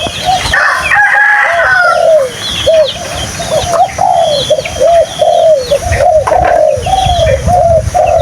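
A wild junglefowl cockerel crows loudly and close, a harsh clipped call repeated several times in quick succession, with other birds chirping faintly in the background.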